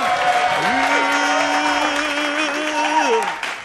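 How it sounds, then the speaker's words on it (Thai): Studio audience on a cooking competition show claps to welcome a kitchen team, moderate applause partly covered by a loud, melodic sustained tone. "ขอเสียงปรบมือต้อนรับทีมครัวหล"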